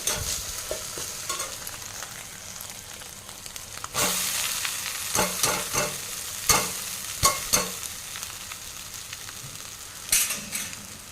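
Soft sizzling of an egg frying in a pan beside fried onions and chillies, with several sharp scraping and stirring knocks from a utensil, close and without any talking.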